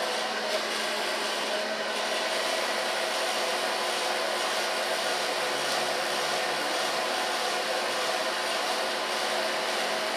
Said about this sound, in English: And start on the longer side with drying. Try it with a large brush.